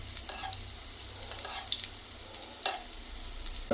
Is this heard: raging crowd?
no